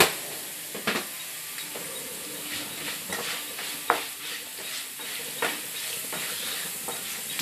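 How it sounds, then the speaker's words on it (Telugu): Ginger frying in a pan for a pickle, a close continuous sizzle punctuated by repeated scraping stirs and sharp spoon knocks against the pan, with no talking. "చూసారు కదండి జింజర్ మంచిగా ఫ్రై అయిపోయింది"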